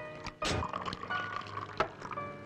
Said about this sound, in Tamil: சோடா ஊத்து.